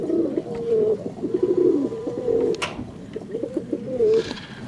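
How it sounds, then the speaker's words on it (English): A male white pigeon with orange eyes coos close by in repeated low, throaty phrases with short pauses, joined by a brief rustle near the end, with no talking. "It's a male white pigeon because it's got the orange eyes."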